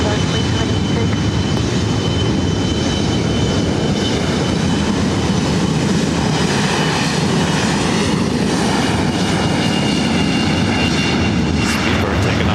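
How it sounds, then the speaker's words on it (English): British Airways airliner taking off on the north side at LAX, a broad continuous engine roar, loud and steady throughout. "Speedbird taking off on the north side."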